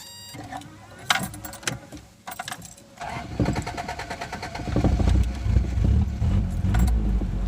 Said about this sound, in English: So we'll just kind of get some cranking behavior.